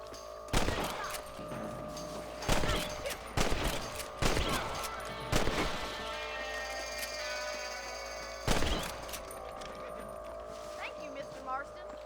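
Rifle shots ring out at rabbits in Red Dead Redemption, about six sharp separate cracks spread irregularly across the stretch, loud and close over a steady ambient hum, with a voice talking between some shots.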